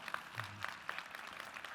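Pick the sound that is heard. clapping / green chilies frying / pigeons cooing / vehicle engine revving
clapping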